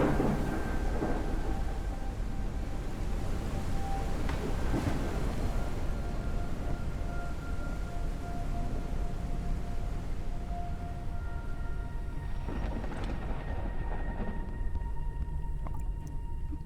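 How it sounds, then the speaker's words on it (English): A thunderstorm in the video game Forever Skies: a constant, heavy roar of wind and rain, with deep thunder rumbles rolling in several times and faint higher tones drifting through. No one speaks. "The storm in this game is no joke."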